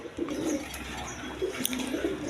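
Yellow Rajgolla pigeons sitting on eggs give soft, low, throaty coos that repeat in short pulses over a faint background hum, with no talking.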